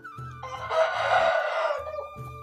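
At a breeding unit for Indian-breed fighting cocks in Bhimavaram, a rooster crows nearby in a single drawn-out call, with low clucks and grunts from other birds before and after.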